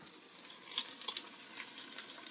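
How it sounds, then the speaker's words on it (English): Onions, ginger and garlic sauté in an Instant Pot, giving a soft, steady sizzle with faint crackles and small pops, quiet and close, with no voices. "So let's add it to our currently sauteing onions, ginger, and garlic."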